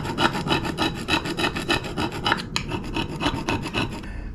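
Brake dust and grime are scraped off the caliper carrier of a 2008 Smart Fortwo 451 in a fast, rhythmic series of harsh metallic rasping strokes. The scraping is close, loud and unaccompanied.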